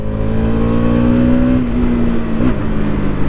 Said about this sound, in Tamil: ஏன்னா அந்த எக்ஸாஸ்ட் நோட்டுக்காக